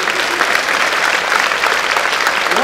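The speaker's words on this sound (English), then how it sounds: "you clap for that also" A large graduation ceremony audience applauds, a loud, dense, continuous wash of clapping close by that holds steady throughout.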